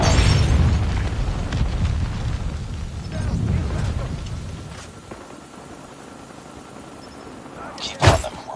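Predator missile strike in a military shooter video game, a heavy rumbling blast that fades over several seconds, followed by a sharp pop near the end.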